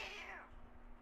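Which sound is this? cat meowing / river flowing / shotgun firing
cat meowing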